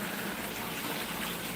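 Water gushing steadily into a newly dug pond, a continuous loud rushing and splashing flow close by with no break and no talk.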